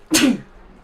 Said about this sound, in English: I'm sorry, I just sneezed.